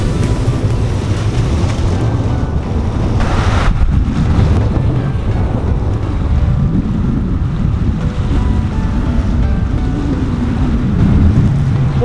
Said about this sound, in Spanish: Realmente hay mucho viento